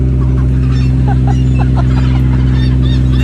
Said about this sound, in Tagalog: mga ibon, tagalinis ng net